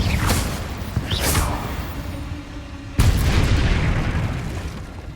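Confringo explosion spell in the video game Hogwarts Legacy: loud booming blasts with whooshing bursts, one early, another around a second in, and a sharp heavy explosion near the three-second mark that rumbles and decays.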